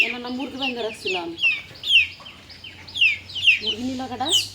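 A tethered chicken clucks and squawks in repeated loud bursts close by, with a low steady hum underneath.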